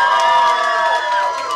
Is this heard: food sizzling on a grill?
no